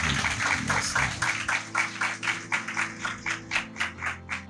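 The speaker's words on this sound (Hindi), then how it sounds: "जोर से ताली बजा सकते हैं परमेश्वर।" A church congregation at a Sunday Hindi service claps together in a steady, even rhythm, about three claps per second. The claps are moderately loud over a low sustained background tone.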